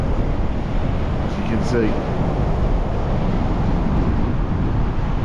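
Heavy gusting wind buffets the microphone on a beach at South Withernsea, a steady roaring rumble throughout, with someone speaking briefly over it.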